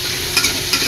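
Frying potatoes are stirred in a pan in a school canteen kitchen, a loud continuous sizzle with two brief scraping strokes, close and without talk.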